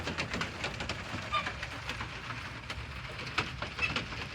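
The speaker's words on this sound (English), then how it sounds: "It's cold and rainy." Steady rain falling outdoors on a cold, wet day at a homestead, a dense even hiss of drops on surfaces throughout with no voices.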